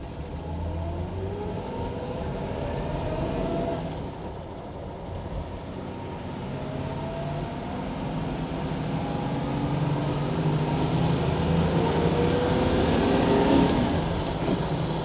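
A 1966 Chevrolet Impala SS with a 427 cubic inch, 425 horsepower V8 and four-speed manual pulls away under throttle, its engine note rising and falling with gear changes over fifteen seconds of steady, moderately loud driving.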